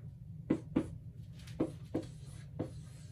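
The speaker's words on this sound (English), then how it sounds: "I'll just write a prescription up here." A pen writes out an eyeglass prescription on paper, close up, five short scratchy strokes in an uneven rhythm over a low steady background hum, with no talking.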